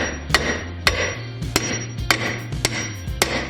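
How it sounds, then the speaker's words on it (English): Sharp metal hammer strikes ring out at a steady pace, about eight blows in quick succession, close and loud, hammering out a ball joint on a Jeep WJ Grand Cherokee. "I think I can hammer it out."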